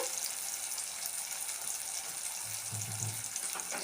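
Tomato pieces frying in a pan for a curry, a steady broad sizzle and hiss throughout with a brief low bubbling near the end, close and even in level.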